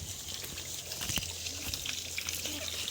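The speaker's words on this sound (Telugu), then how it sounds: "ఆగో ఇక్కడ వస్తుంది బోరు" A thin stream of water trickles out of a borewell pipe on a farm field, a faint continuous splashing and dribbling that stays fairly even throughout.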